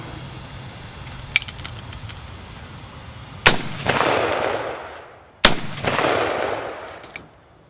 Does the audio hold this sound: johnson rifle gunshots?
yes